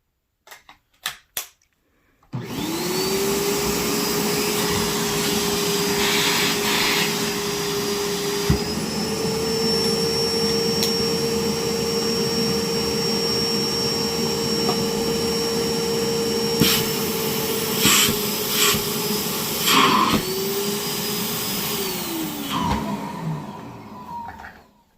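A clogged Bissell Bark Bath carpet cleaner starts up and runs for a long stretch with a loud, steady motor drone and whining tone, a few clicks and gurgles along the way, then winds down and stops.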